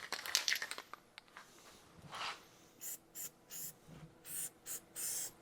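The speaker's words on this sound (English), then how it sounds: "we just use some rubberized undercoating, spray it in there, that'll seal her up" Rubberized undercoating is sprayed onto a 1930 Model A pickup in short hissing bursts, about six quick sprays in a row after some faint rustling and scraping, fairly quiet and close with no talk.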